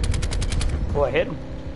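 A rapid burst of automatic gunfire in a multiplayer video game rattles off about seven close, loud shots, then stops, followed by a brief voice.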